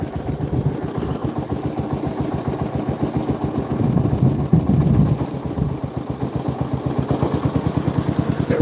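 An old tractor engine that had not started in about a year idles steadily on its own, with a close, continuous low chug throughout and a brief swell in loudness midway.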